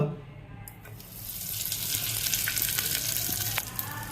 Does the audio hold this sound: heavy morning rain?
no